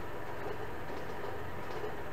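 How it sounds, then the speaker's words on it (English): Train rumbling along the tracks in the video game Transport Fever, a steady, loud, continuous rail drone with a low engine hum and no clear individual clacks. "Ooh, train!"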